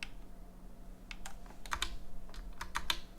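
Computer keyboard typing, with scattered sharp key clicks that pick up into quicker clusters over a faint background hum, with no voices.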